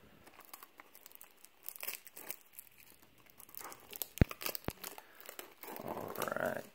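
Plastic wrap is torn and crinkled off a Star Wars CCG booster pack: close, quiet, irregular rustling and crackling with a few sharper snaps and a longer tearing rip near the end.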